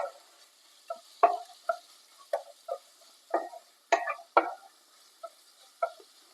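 Mint and coriander being stirred in a pan for chicken salna, a sparse series of short scraping and clicking strokes with quiet gaps between them, close by and without talk.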